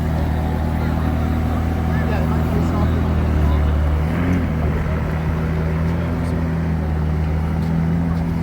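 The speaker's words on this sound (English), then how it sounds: "This 600 LT leaving" McLaren 600LT supercar driving away at an outdoor car meet, a loud low engine drone with a brief rise in pitch midway, heard alongside ambient crowd chatter.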